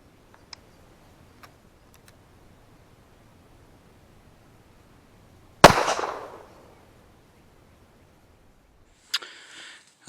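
A 9mm pistol firing rat shot: one loud single report with a fast echoing decay, set in quiet surroundings with faint ticks before it and a short burst of noise near the end.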